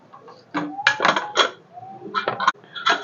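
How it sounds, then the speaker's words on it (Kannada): Metal clinks and clatter as a pressure cooker lid is opened after its whistle while cooking palak rice khichdi, several sharp close knocks in quick succession. "ನಾನು ಇವಾಗ ಇದನ್ನು ಓಪನ್ ಮಾಡ್ತಾಯಿದ್ದೀನಿ."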